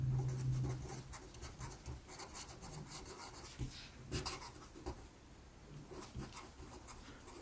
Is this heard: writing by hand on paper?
yes